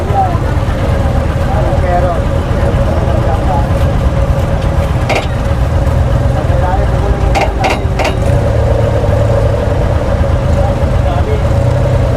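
A 10-wheeler truck engine idling in a small-town market street, a low steady rumble running the whole time, with occasional sharp clanks and people talking in the background.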